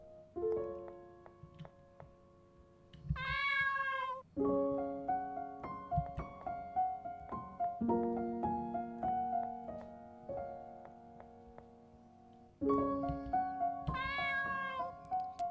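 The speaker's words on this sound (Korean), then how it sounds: "고양이들 밥 주네?" Several cats in the video game Midnight Train meow again and again, sharp overlapping cries over a soft musical bed, the sound steady and fairly close throughout.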